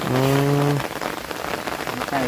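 Steady rain falls hard on a surface, a dense continuous hiss and patter close by, with a brief tonal voice-like sound at the start and again near the end.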